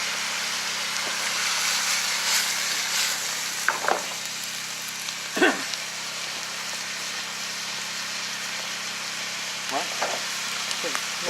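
Onions sauté in a pan ahead of venison liver, a continuous bright sizzle close by, broken by a few short clinks and stirring scrapes.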